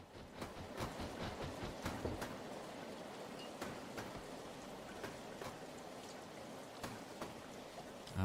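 Light summer rain falls at the Talyllyn Railway in Britain, a faint, steady patter with scattered drops ticking on nearby surfaces and no voices.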